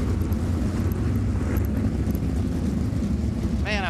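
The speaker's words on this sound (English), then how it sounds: "as you listen to the cars go by here, you can hear that horsepower" Sprint cars roar past in a steady, loud engine drone at the Knoxville Nationals dirt track race, with a faint whine sweeping by near the end.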